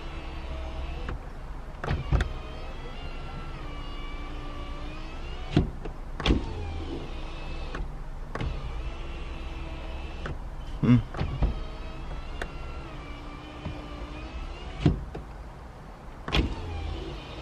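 A power window motor on a 2016 Honda Civic whirs steadily as the glass travels, with sharp clunks and knocks as the window stops and restarts several times. The sound is close by and there is no talking.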